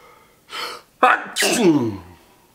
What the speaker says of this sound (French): Attendez, j'ai envie d'éternuer.